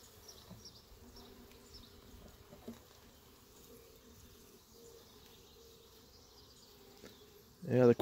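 Honeybees buzz softly around an opened hive during a brood check, a faint, steady drone with a sudden loud bump at the end.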